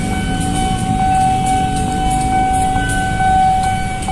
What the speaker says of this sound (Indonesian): Ini ada lagi kereta nih mau lewat apa nih?